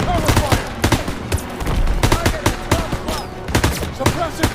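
Dense battlefield gunfire in the WWII shooter Call of Duty: WWII, with rapid bursts of shots in a steady rhythm, close and loud throughout, and shouting soldiers faintly mixed in underneath.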